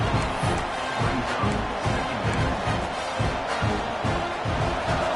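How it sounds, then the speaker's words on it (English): A large stadium crowd in the video game College Football 26 roars continuously, with rhythmic swells like chanting or stomping pulsing beneath the dense, loud cheering. "Listen to the crowd energy here in the early going."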